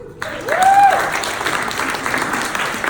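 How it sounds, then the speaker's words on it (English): During a PC-building program panel, an audience breaks into applause that swells quickly and carries on steadily, with a short whoop rising over the clapping. "let's give them a round of applause"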